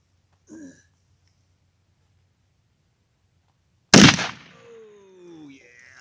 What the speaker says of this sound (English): We're going to shoot those cans and see what happens.